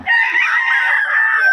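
A rooster crows one long, loud, drawn-out call close by, heard on its own with nothing else around it.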